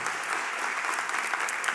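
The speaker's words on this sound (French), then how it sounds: "On peut applaudir une nouvelle fois et encourager les membres du jury" An audience at a university thesis-presentation final applauds steadily, a dense, even patter of many hands clapping with no voices over it.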